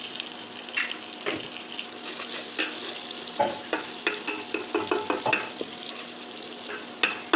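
Onions fry in a pan of oil seasoned with a little salt and sugar for a spicy small-potato dum, with a steady sizzle and a spoon scraping and clinking against the pan through repeated stirring.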